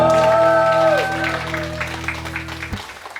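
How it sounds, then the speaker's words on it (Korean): At an environmental concert, an audience claps in welcome while sustained musical tones fade and cut off. Loose, moderately loud clapping carries on alone afterward. "박수로 모시겠습니다."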